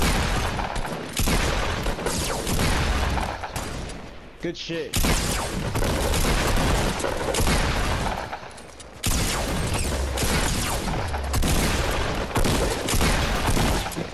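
Dense, sustained gunfire in Fortnite, a Victory Royale match: loud rapid bursts fill most of the stretch with a brief lull near the middle, while players talk over the shooting.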